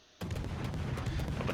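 Warship guns fire in World of Warships, a sudden burst of gunfire that opens after a brief quiet moment and settles into a dense, rumbling roll of shots, moderately loud and heard alone.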